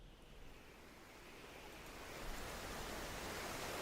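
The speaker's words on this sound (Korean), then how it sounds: "무서운 높이의 파도가 몇 번이고 몇 번이고 밀려온다" Huge storm waves at sea roll in again and again, a broad roaring wash of surf and wind that swells louder toward the end, heard alone without voices.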